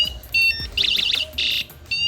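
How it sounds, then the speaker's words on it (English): Several short electronic beeps and warbling chirps in quick succession from an electronic bicycle bell, shrill and close, changing pattern between bursts. "This is the sound of the bell, different sound."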